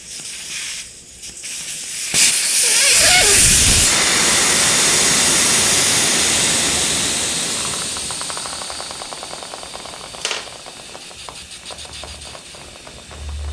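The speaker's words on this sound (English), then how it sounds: "then it's going to let all the air out" Air hissing out of a Kawasaki KZ750 Scrambler tire valve, a loud, close, steady rush that starts abruptly after a few clicks and slowly fades as the pressure drops.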